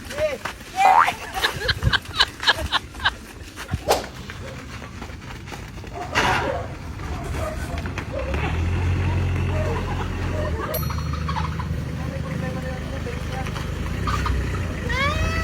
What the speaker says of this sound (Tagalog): napakalakas nung tunog ng alternator belt natin